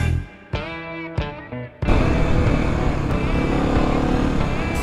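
Kawasaki KLX 250 dual sport motorcycle engine, a few short revving bursts, then a sustained loud, close engine drone at steady high revs.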